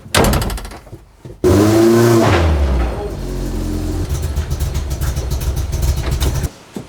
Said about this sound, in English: Time to move the real race car.